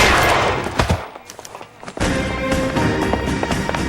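Gunfire from the L.A. Noire video game: a dense fusillade of loud, close shots that stops briefly in the middle, then resumes as rapid overlapping bursts, with no voices.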